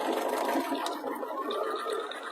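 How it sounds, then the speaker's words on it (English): A sewing machine runs steadily, stitching the seam of a small lined swim bag with a 1/2 inch seam allowance, a continuous close whirring motor hum with no pauses. "I'm going to go down to the double pins, and then I'm going to backstitch"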